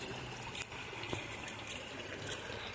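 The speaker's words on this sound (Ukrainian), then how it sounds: "Тече вода вже зранку" Water gushing from a burst pipe and flooding a city street, a continuous broadband rushing wash that stays steady throughout with a couple of faint knocks, no talk over it.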